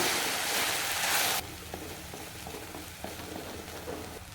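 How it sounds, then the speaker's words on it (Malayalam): Grated coconut mixed with salt and turmeric being stirred in a pan, giving soft scraping and light sizzling; a loud broadband hiss fills the first second and a half, then quieter stirring scrapes continue alone. "ആവശ്യത്തിന് ഉപ്പ് അര കപ്പ് തേങ്ങ ചിരങ്ങി കാൽ ടീസ്പൂൺ മഞ്ഞൾപ്പൊടി ഇത്രയും ചേർത്ത് നല്ലതുപോലെ ഒന്ന് ഇളക്കി യോജിപ്പിക്കാം"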